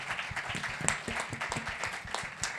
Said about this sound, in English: Please give a round of applause to our amazing panelists.